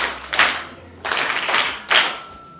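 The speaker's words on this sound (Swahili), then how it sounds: "mpigieni makofi" A church congregation gives three short bursts of clapping, each swelling and fading in quick succession, fairly close and fairly loud, with no voices over it.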